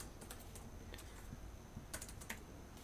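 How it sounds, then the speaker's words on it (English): Quick bursts of typing on a computer keyboard, short clusters of light key clicks with brief pauses between them, quiet and close with no talking. "we'll just type in Fight Club"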